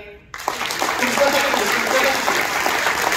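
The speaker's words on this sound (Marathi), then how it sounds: "आता वाजवा तुम्ही टाळी" An audience at a social foundation gathering in Kolhapur bursts into clapping after a short lull, a dense and steady round of applause that carries on to the end with a few voices mixed in.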